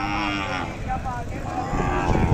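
Sahiwal cattle at a livestock market low and moo in a drawn-out, tonal call that runs through the whole moment, fairly close and loud over a busy background.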